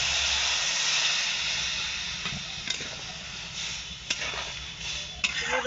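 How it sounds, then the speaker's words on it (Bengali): Sliced vegetables, including figs, seasoned with a little chili powder, hissing and sizzling softly in a pan after a splash of water, a steady steamy crackle with a few faint stirring clinks. "সবজিগুলো নেড়ে চেড়ে নেওয়ার পরে একটু জল দিয়ে দিলাম"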